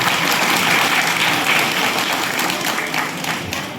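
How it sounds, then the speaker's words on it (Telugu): Steady applause from an audience at a temple ceremony, a dense wash of clapping that holds loud throughout and eases slightly toward the end. "మీరు చప్పట్లు పెట్టండి"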